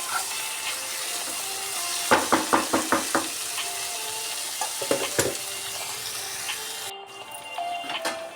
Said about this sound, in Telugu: నూనెలు ఉడికింది కాకరకాయ